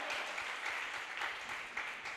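A church congregation at a Sunday service applauds loudly and steadily, a dense wash of many hands clapping with a rhythmic pulse running through it.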